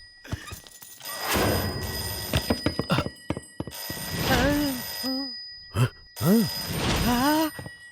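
A telephone bell rings in repeated bursts across the clip, mixed with loud voices and shouts in a busy indoor scene.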